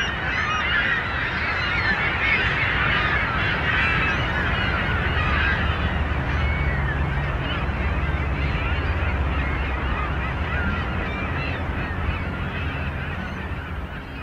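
Pintail ducks call loudly and continuously in the countryside, a dense, unbroken wash of overlapping honks and whistles with steady wind-like noise underneath.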